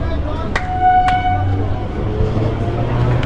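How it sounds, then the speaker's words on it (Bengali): Commuter train departing Ichapur station in West Bengal, with short horn toots and tonal brake or wheel squeal over a steady rumbling platform background, voices murmuring nearby. "আর এই ট্রেন কিন্তু এখন কয়েক সেকেন্ড পর কিন্তু এই স্টেশন থেকে ছেড়ে দিল।"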